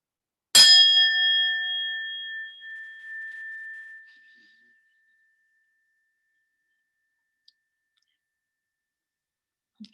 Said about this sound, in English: I will sound a chime to bring us in and out.